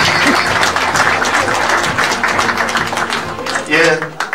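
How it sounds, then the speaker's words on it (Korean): Applause for a Daegu mayoral candidate taking the stage at a small book concert, lively clapping from a modest audience with voices and some music mixed in, swelling briefly near the end. "큰 박수 부탁드립니다"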